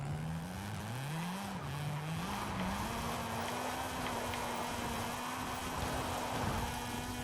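A Mazda RX-7 FD racing downhill in an Initial D racing game, its engine a steady drone that rises and dips with gear changes, heard up close and alone under constant road and tire noise.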